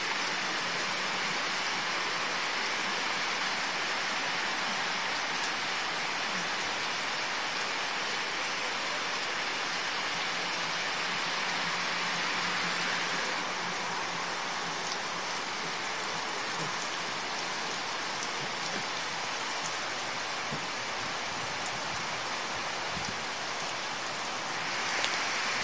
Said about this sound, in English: as you can hear, the rain just became a little bit worse